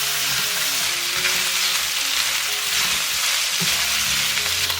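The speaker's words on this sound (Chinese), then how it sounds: "然后把牛腩倒进来翻炒。 先把牛腩的水分炒干。" Beef brisket stir-fried in hot oil with ginger slices, a dense continuous sizzle close by with faint stirring clinks and a low knock near the end, no voices.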